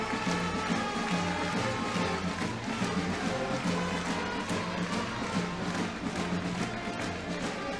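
A high school basketball crowd in a packed gym roars and cheers as the clock runs out on a AA North quarterfinal win, a loud sustained wash of voices and whistles.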